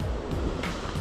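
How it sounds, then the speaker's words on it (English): Rough, choppy waves slap and wash against a small fishing boat on open water off Sonoma County, a steady close-up splashing roar with no talk. "Waves are a little rough now"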